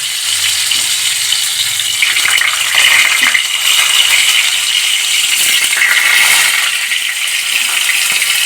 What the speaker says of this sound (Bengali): দেখুন সর্ষের তেলটা আমার গরম হয়ে গেছে এবার আমি পটলগুলোকে আস্তে আস্তে এর মধ্যে ফেলে দেবো